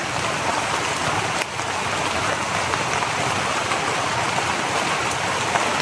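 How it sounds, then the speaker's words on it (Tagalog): Steady rain falls outdoors, a dense, continuous hiss of drops on surfaces, even and close throughout with no talking. "Umulan na mga idol."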